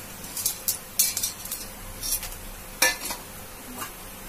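Chana dal frying in hot oil in a pan, a faint steady sizzle with scattered clinks and scrapes of a spoon stirring against the metal, no talking.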